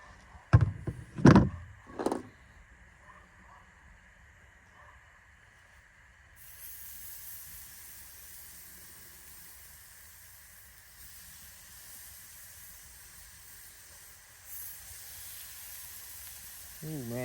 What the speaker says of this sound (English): And we'll get these steaks thrown on.